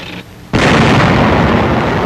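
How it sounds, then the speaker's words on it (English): A tank destroyer firing in combat in a captured waterfront town: one sudden loud cannon blast cuts through a quieter background and leaves a long, rumbling wash of noise behind it. "A tank destroyer goes into action."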